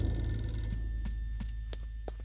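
Telephone ringing inside the GameCube horror game Eternal Darkness, a run of short rings that repeat in a steady rhythm over a low, droning ambient background.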